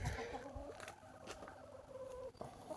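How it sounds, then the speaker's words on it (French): Year-and-a-half-old Orpington hen scratching in a backyard coop, soft clucks and murmurs close by, with faint rustling and scratching between them. "Là-bas on a la Orpington qui gratte"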